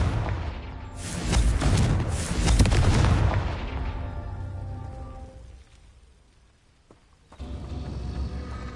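In the video game Hogwarts Legacy, a Confringo blasting spell goes off as a loud, close, rumbling explosion that roars for a few seconds, fades almost to silence, then picks back up into a lower, steady roar.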